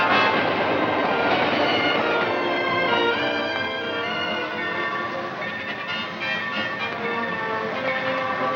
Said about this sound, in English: Air brakes gently slow our train